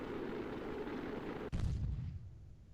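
In a Kerbal Space Program game, a spacecraft tearing through reentry makes a steady roaring rush. It cuts off in a sudden booming explosion that fades into a low rumble, with no talk.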